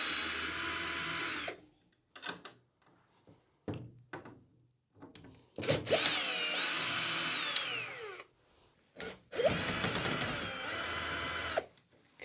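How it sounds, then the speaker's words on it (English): Power driver whirring in several bursts while screws are backed out of an Ikea SUNDVIK bed frame, with clunks and knocks from handling between the runs, close by and with no speech. "let's unscrew one screw on each side."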